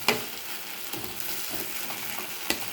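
Spice paste with salt and turmeric frying in oil in a pan, a steady close sizzle with a few sharper crackles and stirring scrapes, loudest at the start and again near the end.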